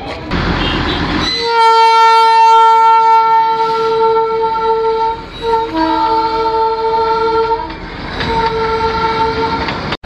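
A train horn blares loudly in long, sustained blasts at Batasia Loop, Darjeeling, breaking briefly before sounding again, over a steady rumble of rolling rail cars.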